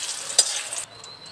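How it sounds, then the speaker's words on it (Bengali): Pumpkin pieces frying in a pan, a bright close sizzle with a sharp pop near the start, then dropping quickly to a faint hiss. "কুমড়ো ভাজতেছি"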